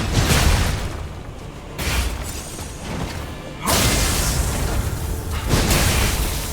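Explosions during the Laxasia boss fight in Lies of P, a series of heavy booming bursts with whooshing tails, each blast abruptly louder than the last, no talk.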